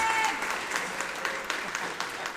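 An audience at a Wapahani High School fall band concert applauds in a steady, moderately loud wash of clapping that holds for a couple of seconds.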